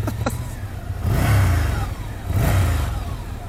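A 2018 Ducati Monster 797 Plus in red, its engine rising in two close throttle blips over a steady idle rumble, with no talking.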